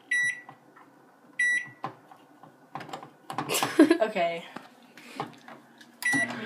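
A microwave oven heating white chocolate beeps as its keypad is pressed, with a clatter of handling and someone speaking briefly, then another beep at the end.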